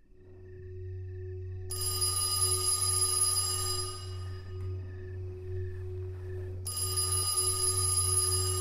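A telephone rings at night in loud electronic bursts, two long rings separated by a pause, with a steady low hum underneath.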